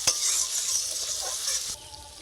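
Onion, tomato and spices sizzle in a pan while a utensil stirs them, giving a close, steady fry with scraping strokes that softens toward the end.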